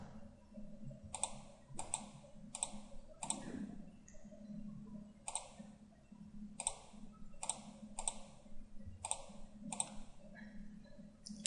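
Mouse clicks while working in Inventor 3D CAD software, about ten sharp close clicks spread out in irregular pairs and singles over a low background hum, with no talking.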